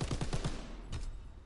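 A machine gun fires in a WW2 video game, a quick burst of five close, evenly spaced shots followed by one more distant report, with no talking.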